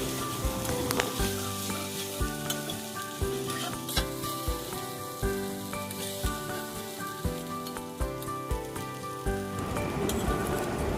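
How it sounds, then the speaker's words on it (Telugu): Cooked rice mixed with amaranth leaves in a pan on the flame, giving a steady close sizzle under repeated rhythmic stirring and scraping strokes throughout, with no voices. "ఈ రైస్ని వేసేసుకొని ఒక రెండు మూడు నిమిషాలు లో ఫ్లేమ్లోనే పెట్టేసుకొని మొత్తం కూడా కలిసేలా ఒకసారి బాగా కలుపుకున్నాను"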